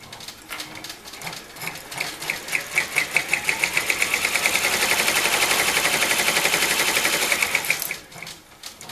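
A sewing machine stitches an applique outline on a zipper bag, a steady rapid mechanical chatter that speeds up into a fast even run before stopping, loud and close with no talking.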